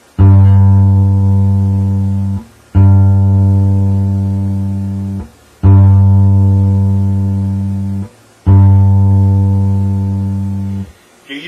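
Four low, sustained open-string bass guitar notes plucked one after another, each ringing for a couple of seconds and slowly decaying before the next.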